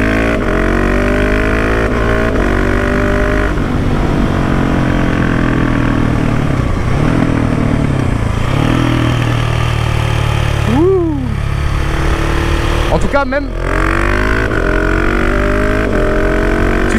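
A 2019 KTM 690 SMC R single-cylinder motorcycle fitted with a new Wings exhaust idles close by, a steady thumping drone with two sharp throttle blips near the end, under a man's brief exclamations and talk.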